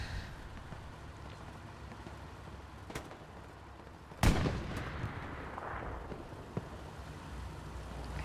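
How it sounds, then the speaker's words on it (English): Anti-tank rocket explosion in the video game Hell Let Loose on the Foy map, a single loud sharp blast with a rumbling tail amid distant gunfire and a steady battlefield hiss. "AT rocket comes in from the front."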